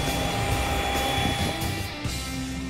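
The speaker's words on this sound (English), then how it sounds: "Look, there's planes over there, Presley." Aircraft engine drone from planes passing overhead during a family outing, a steady broad roar that stays loud and continuous throughout with no talking.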